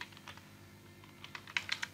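Quiet, close typing on a computer keyboard, with scattered soft keystrokes followed by a quicker burst of sharper clicks.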